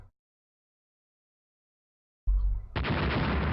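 Naval cruiser guns in Rule the Waves fire after near silence: a sudden heavy boom, then a dense, sustained roar of gunfire that carries on loudly to the end.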